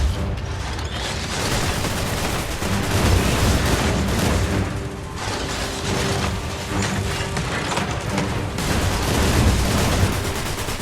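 Rapid gunfire rattles through a fight against a Fallen walker in the shooter game Destiny Rising, with dense bursts, mechanical clanks and booms layered over a constant loud battle din, no voices.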